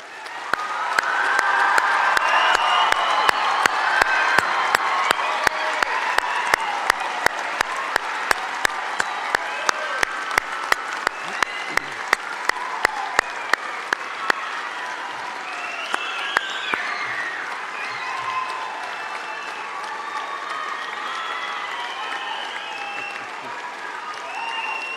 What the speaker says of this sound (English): I would now like to invite our graduates to please stand as we offer them one more round of applause.